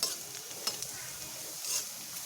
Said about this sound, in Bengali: আলুগুলোকে এইভাবে লাল লাল করে ভেজে নিচ্ছি।